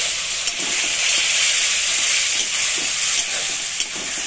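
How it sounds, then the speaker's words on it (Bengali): Spice paste with chilli powder and added water frying in a pan, giving a steady, bright hissing sizzle with soft occasional stirring taps, close and continuous. "এবার এই মশলা ধোয়া জলটা আমি দিয়ে দিলাম, দিয়ে আমি 2 মিনিট কষিয়ে নেব"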